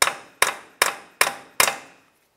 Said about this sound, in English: let's continue on with a hammer and punch